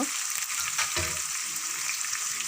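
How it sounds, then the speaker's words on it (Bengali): A generous amount of onions fries steadily in hot oil for a home-style desi chicken curry, giving a continuous close crackling sizzle with a brief stirring scrape partway through and no voices. "তেলে ভেজে নিচ্ছি আর কি"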